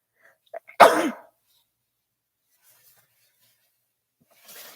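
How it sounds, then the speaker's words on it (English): One sharp, explosive sneeze with a quick breathy lead-in, then near silence and a faint rustle at the end. "sorry about that sneeze there."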